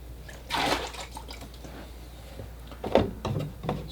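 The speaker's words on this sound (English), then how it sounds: "So we'll pour some fresh clean water in the bucket here, like that." Fresh clean water pours into a bucket during watercolor painting, two brief splashing bursts separated by quieter handling noise, close by.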